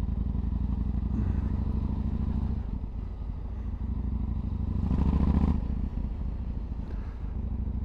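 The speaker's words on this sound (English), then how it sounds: "So you still get that big lumpy V-twin noise" A V-twin motorcycle engine runs steadily with a deep, lumpy low rumble, swelling louder for a moment near the end before settling back, with no talk over it.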